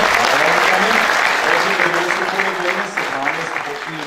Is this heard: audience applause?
yes